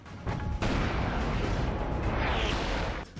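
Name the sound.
AT-4 rocket launcher firing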